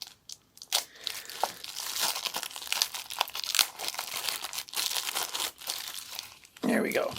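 Taped plastic packaging crinkles and tears in close, busy bursts as a fixed-blade knife is unwrapped, with a voice speaking over part of it.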